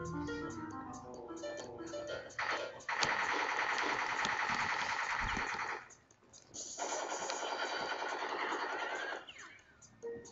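Pinstripe's gun rattles off in the Crash Bandicoot video game, two long sustained bursts of rapid tommy-gun fire with a brief pause between, set against game music and effects.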